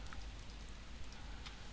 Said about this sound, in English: Ah, it's starting to rain.